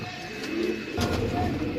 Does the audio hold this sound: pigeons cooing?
yes